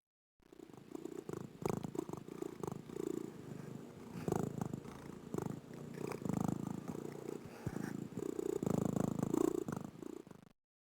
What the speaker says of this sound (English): let me know what it sounds like when a cat purrs